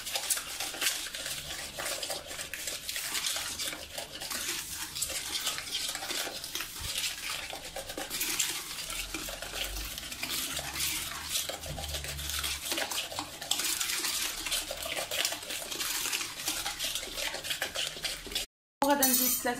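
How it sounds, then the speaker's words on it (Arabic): Dough ingredients with salt and sugar are stirred in a bowl, a continuous scraping and clinking of utensil against bowl, close and fairly loud, running steadily throughout with a brief gap near the end. "ونخلط كلشي مزيان."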